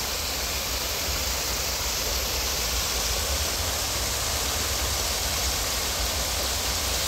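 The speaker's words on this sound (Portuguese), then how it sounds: "esse barulho de cachoeira, de água, isso aqui é muito bom" A waterfall pours continuously, its rushing water a steady, even hiss and roar that holds without pause or voices.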